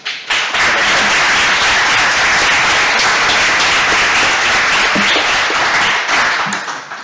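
Loud, close applause from a conference audience for the speakers after a fintech session, continuous dense clapping that starts abruptly and holds strong for about six seconds before easing.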